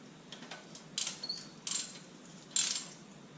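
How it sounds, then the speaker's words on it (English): A ratchet tightening a part on a 2001 Mitsubishi Mirage during a service, a few short bursts of rapid clicking with pauses between, close and moderately loud, with no talking. "Let's get my ratchet"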